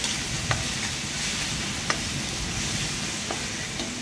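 A ground paste of green chilli, garlic and coriander roasts in hot oil tempering, giving a steady, close sizzle with a few light taps of a utensil against the pan, and no voices.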